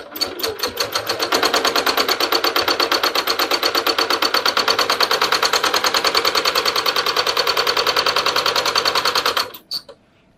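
A regular home sewing machine quilts a large quilt, running at a fast, even stitching rhythm close up for about nine seconds before slowing with a few last stitches and stopping.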